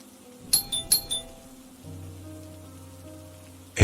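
Doorbell chime in a Korean horror radio story, two bright ringing tones near the start with a clear decay, followed by a low hum and quiet background.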